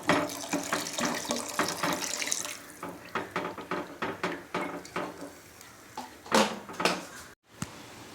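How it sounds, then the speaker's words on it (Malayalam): Hot water pours into a cooking pot of rice for mutton biryani, a splashing stream followed by a run of short clinks and knocks of pots and utensils at close range. "നമ്മളിവിടെ ചൂട് വെള്ളമാണ് ഒഴിക്കുന്നത്."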